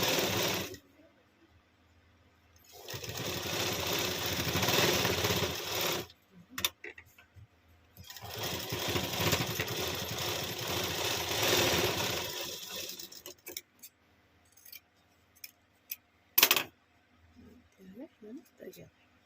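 Sewing machine stitching piping dori for a blouse, running in two long steady bursts, each several seconds, separated by pauses filled with faint handling clicks and rustles.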